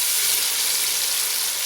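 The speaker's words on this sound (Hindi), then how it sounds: "टमाटर डाल दिए, अब भूनेंगे" Tomatoes fry in a hot pan for a Pakistani-style Chinakohl (cabbage) dish, giving a steady, loud, close sizzling hiss with no voices.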